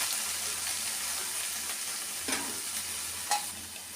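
Coriander and garlic sizzle in a hot pan for a coriander and flaxseed chutney, with a steady frying hiss and a few stirring scrapes.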